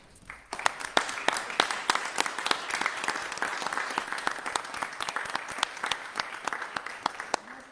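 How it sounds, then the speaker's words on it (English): A room of people at a city council meeting gives a sustained round of applause for department heads, dense steady clapping of many hands lasting several seconds before tapering off. "let's stand and get our department heads a round of applause"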